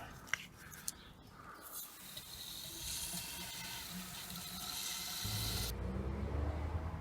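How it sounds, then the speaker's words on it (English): Water from a hose pours into the radiator of a Mini John Cooper Works, a quiet steady gush that swells partway through, with a few faint clicks early on. "then I'll just top it up with water"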